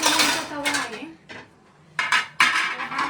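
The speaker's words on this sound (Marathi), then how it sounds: "ॲल्युमिनियमचा तवा आहे." An aluminium tawa griddle being handled, giving several sharp metallic clanks and scrapes in irregular bursts with brief quiet gaps between them.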